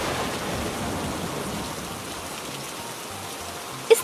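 Steady rain falling in a forest in an animated story, a continuous soft hiss of rainfall that holds evenly throughout, with a brief sharp tap right at the end.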